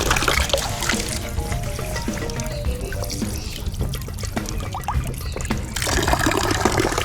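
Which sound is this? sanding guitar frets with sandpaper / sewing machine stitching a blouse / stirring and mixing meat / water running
water running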